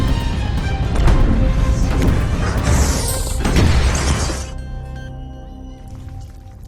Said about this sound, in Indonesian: bom seberat 2 ton dijatuhkan ke jantung benteng Brest